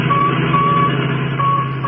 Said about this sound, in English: That's the signal from the radio in the Royal Coupe that they got away with.